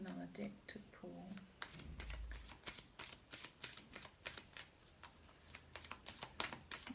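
A deck of tarot cards is shuffled in rapid, crisp riffling bursts, close and fairly quiet, with brief soft thumps as the cards settle; a low murmur of talk sits faintly underneath.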